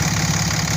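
The engine of a Dodge Cummins 5500 truck idles in a brief, steady, close rumble with no voices.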